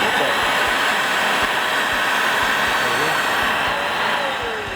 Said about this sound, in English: You've got the hoover bit there that pulls the air up and pulls the water up as well into that gap there